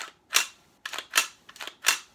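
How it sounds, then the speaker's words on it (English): The functional bolt of an Umarex MP40 Legends CO2 replica submachine gun is racked several times, giving sharp metallic clacks and snaps in quick succession, close and crisp with no talking. "Functional bolt."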